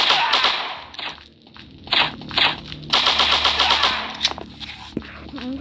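An AK rifle in a mobile shooter game fires on full auto in several short bursts separated by gaps, with clicks and scraping handling sounds between them, moderately loud.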